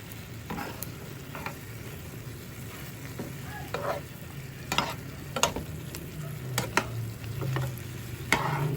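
Potatoes and two boiled eggs fry in a pan of chicken adobo with a soft, steady sizzle, broken by occasional stirring scrapes and sharper crackles; no one speaks.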